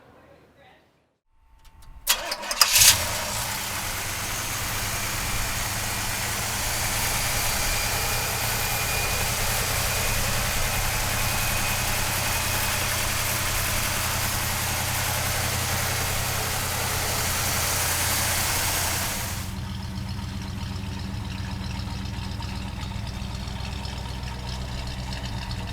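A 1969 Pontiac GTO cranks and fires with a sharp burst, settling into a loud, steady, deep idle that drops to a quieter, lower idle near the end, with voices heard around it.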